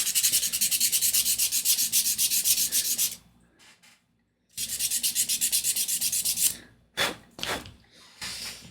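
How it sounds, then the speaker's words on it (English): Sandpaper rubs back and forth on a small wooden part of a 1:76 scale Agora USS Constitution model, two long bursts of steady rapid strokes separated by a pause, then a few short close scrapes. "So I think I might want to sand this one just a hair more."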